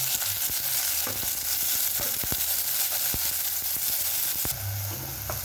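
Chopped tomatoes sizzle and fry in a pan for dal fry, a steady hiss with sharp spoon-scrape clicks scattered through, the sizzle dropping slightly near the end.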